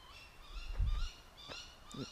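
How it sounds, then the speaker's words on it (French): Birds call outdoors at night near a telescope set up for astrophotography. Faint owl-like hoots and thin, drawn-out tonal calls repeat over a steady background hiss, distant and soft, with no voices. "Des oiseaux tiens."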